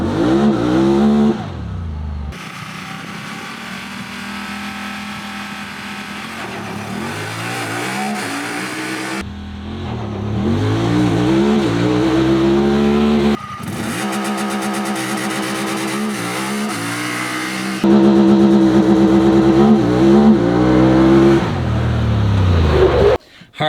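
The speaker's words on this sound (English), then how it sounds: "you launch the Talon" A 2021 Honda Talon 1000R side-by-side launches hard several times, its engine roaring up through rising gear sweeps, loud and close, with brief cuts between each acceleration run.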